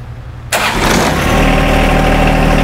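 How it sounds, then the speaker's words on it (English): A compact tractor's engine cranks and catches after a brief quiet moment, then settles into a steady, loud, close idle with a constant low rumble. "Turn your machine back on."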